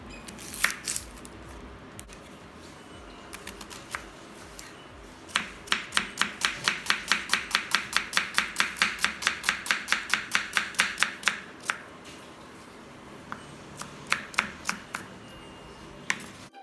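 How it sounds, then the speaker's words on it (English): Knife chopping two medium onions for an egg curry, a fast, steady run of sharp taps on a board, close and clear, with a few scattered cuts before and after the main burst. "Chopping some onions for the egg curry."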